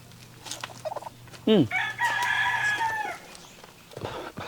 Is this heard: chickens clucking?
yes